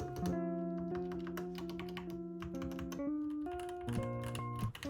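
Typing on a Yunzii YZ75 mechanical keyboard with its original switches, a rapid, steady clatter of close keystrokes over soft background music with sustained tones.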